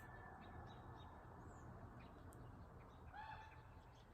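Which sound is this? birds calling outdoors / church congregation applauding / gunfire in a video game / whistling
birds calling outdoors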